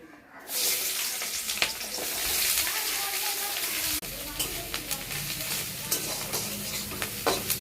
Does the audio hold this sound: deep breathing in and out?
no